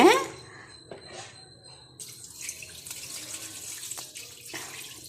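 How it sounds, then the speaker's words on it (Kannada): Rice is washed under a running tap at a kitchen sink, with a steady close splash of water, swishing and a few knocks and drips, with no talk. "ಚೆನ್ನಾಗೆ ವಾಶ್ ಮಾಡ್ಕೊಬೇಕು ಆಯ್ತಾ ವಾಶ್ ಮಾಡಿಕೊಂಡ್ಮೇಲೆ"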